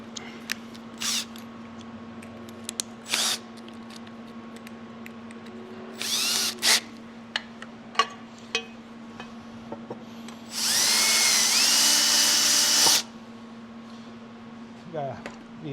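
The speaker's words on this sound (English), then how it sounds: "Actually, we need to drill a bigger hole." A power drill whirs in a steady burst of about two seconds, drilling a hole during repair of a Husqvarna K971 power cutter, preceded by shorter tool sounds and clatter against a constant background hum.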